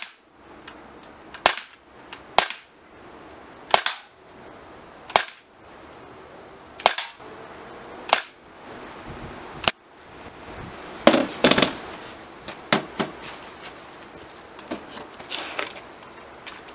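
Gamo PT85 Tactical CO2 air pistol firing through a magazine: a dozen or so sharp, loud cracks, spaced about a second apart at first, then quicker and more irregular, with faint handling clicks between shots.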